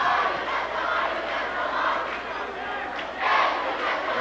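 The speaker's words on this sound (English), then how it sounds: "The crowd's into it." A large crowd roars steadily at a 2002 high school football area championship game between Dothan and Northview, a dense, continuous wash of cheering that swells louder near the end.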